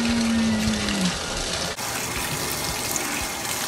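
Water pours steadily from a tap while clothes are rinsed in a sink, a loud continuous gushing rush heard up close with a brief dip partway through.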